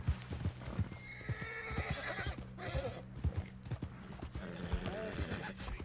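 A panicked horse in Red Dead Redemption 2 whinnies while its hooves clip-clop in a quick, uneven rhythm, close by, with someone talking over it.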